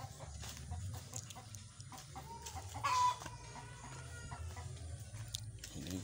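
Hen clucking before laying eggs, close, repeated soft clucks in an uneven rhythm over a low steady background, with one sharper louder call midway.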